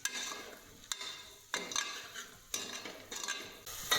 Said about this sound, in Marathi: हळद, धना पावडर आणि थोडीशी लाल मिरची. व्यवस्थित हलवून घेते.